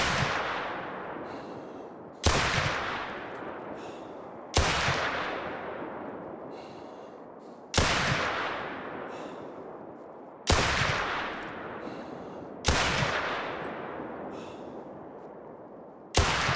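A .45-70 Jernberg Superior handgun fires single shots in the hunting game theHunter: Call of the Wild. Seven loud, sharp reports come two to three seconds apart, each trailing off in a long, rolling echo.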